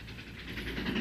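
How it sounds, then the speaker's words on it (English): A toy train set running indoors, giving a steady, close rattling clatter with a soft hiss that builds slightly in loudness over about a second, with no talking. "I'll play with my train set."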